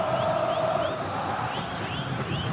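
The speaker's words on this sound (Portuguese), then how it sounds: "Olha a torcida coxa branca aí, vivendo a sua empolgação" Coritiba (Coxa Branca) supporters roar in a stadium during a Copa do Brasil 2011 decisive match against Vasco, a broad sustained crowd noise with rising whoops and shouts layered over the din.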